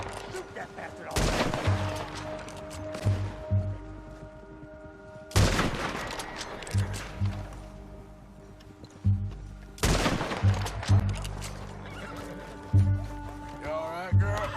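Gunfire in Red Dead Redemption 2, three loud, sharp blasts spaced several seconds apart, each echoing, with shouted voices and game sounds between them.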